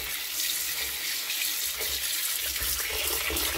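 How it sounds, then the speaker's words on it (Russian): Lentils are washed under a running kitchen tap for soup, a steady, close hiss and splatter of water pouring into a bowl or sink with no pauses and no speech. "моем под проточной водой"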